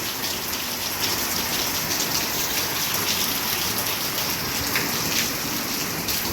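Steady morning rain falls outdoors, a dense, even hiss of drops hitting surfaces that stays loud and unbroken throughout, with no voices over it.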